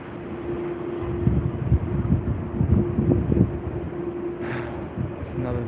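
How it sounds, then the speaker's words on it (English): A China Airlines Airbus A350-900 in carbon fiber livery rolls out after touchdown at a distance, a steady broad jet roar with a faint sustained whine, rising slightly in the middle, with other voices murmuring faintly beneath. "China Airlines A350-900, and the beautiful carbon fiber livery has just touched down over there."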